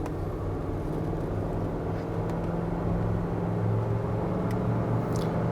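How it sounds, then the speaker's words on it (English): A 1995 Ford F-150 flare-side pickup accelerating through its gears, heard as a steady low engine and road drone that runs on continuously, with no breaks or talk. "Let's see how it shifts through the gears here."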